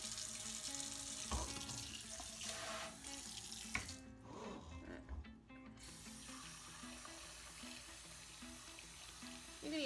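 Warm water pours into a pot over chicken and vegetables, a close, quiet splashing and trickling that runs steadily, with a brief clatter partway through.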